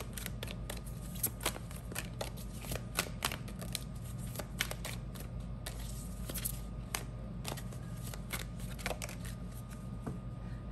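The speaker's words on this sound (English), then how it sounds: "You saw me shuffle these cards." Tarot cards are shuffled repeatedly up close, crisp riffling flicks and snaps recurring in quick irregular bursts over a low steady background hum.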